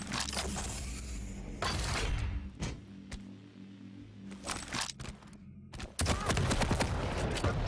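Heavy machine gun fire in an arena shooter video game, coming as rapid bursts of loud shots mixed with other game effects and explosions, no talk.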